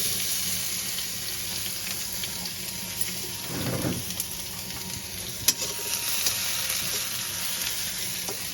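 Garlic fries in hot oil as a tempering for kadhi, giving a loud, steady, close sizzle throughout with a brief surge of crackling midway.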